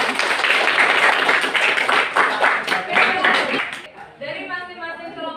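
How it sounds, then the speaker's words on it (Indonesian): A classroom audience of teachers claps for the group presentations, with a burst of dense applause that fades out, followed by a voice speaking near the end. "beri aplaus untuk teman sekalian"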